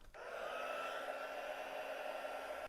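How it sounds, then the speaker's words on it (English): A hair dryer blows on a watercolor painting of plant mugs, a steady, smooth whirring hum that starts abruptly and cuts off after under three seconds, quiet and alone. "I'm going to dry the whole thing off for one final time."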